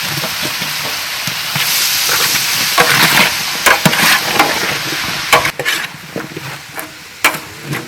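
Quail gravy masala frying and sizzling in a pan outdoors as tomatoes go in, with steady close sizzle and repeated scraping stirs of a spoon, louder in the first half and easing later.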